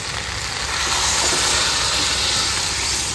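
Water poured into a pan of fried mixed vegetables for a curry gives a steady, loud broadband hiss and steam that holds evenly for the whole stretch, close by, with no voices.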